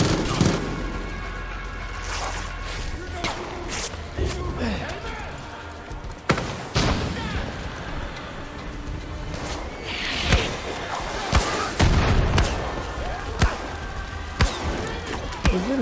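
Gunfire in Far Cry 5 at the Whistling Beaver Brewery, heavy sharp shots and impacts scattered irregularly across a dense, busy game mix, with talk present.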